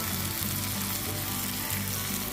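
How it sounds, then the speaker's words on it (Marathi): Spicy prawns frying in oil on a flat tawa, giving a steady, close, even sizzle that runs unbroken from start to end with no voices. "कुठची कोळंबी फ्राय व्हायची बाकी आहे, मग ती सुद्धा परतली तरी चालेल"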